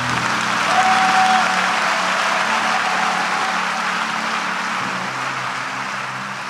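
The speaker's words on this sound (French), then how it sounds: "Acclame mieux que ça." A church congregation at a revival meeting applauds and cheers in a sustained, loud wash of clapping that holds steady throughout, with no speech over it.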